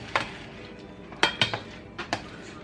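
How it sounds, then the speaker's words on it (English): Spoon or utensil clinking against a pan while tomatoes and garlic are stirred together for a Sicilian tuna pasta, a few sharp metallic taps and scrapes at irregular intervals, fairly quiet and close. "you're just going to mix the tomatoes and the garlic and let that boil for 5 minutes"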